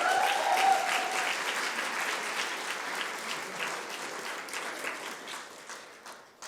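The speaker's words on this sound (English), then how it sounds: "So a massive round of applause for that." Audience applause from a lecture crowd, loud at first and tapering gradually over several seconds as the clapping thins out.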